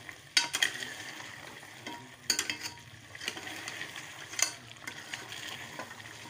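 Meat curry made with bones and cloves being stirred and fried in a pot, with scraping stirs at irregular intervals over a steady low sizzle, close and fairly quiet with no talking.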